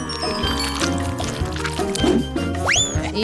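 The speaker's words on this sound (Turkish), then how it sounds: "Onları kahvaltılık gevrekleri döküyorum" M&M's-flavored sweet milk poured onto breakfast cereal, a steady close liquid pour with splashing and soft crunchy rustle, alone without talk.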